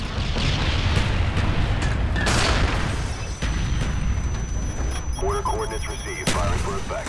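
Booming airstrike explosions and rolling blasts in Call of Duty: Black Ops Team Deathmatch on the Silo map, loud and dense throughout, with a sharp extra blast near the end and radio-style voice chatter layered in.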